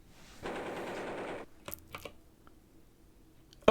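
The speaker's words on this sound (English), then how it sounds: "Do they pull out their third machine gun?" Machine gun fire in the Enchanted Scepters computer game: about a second of harsh, static-like noise, followed by a few sharp clicks and a brief high tone at the end.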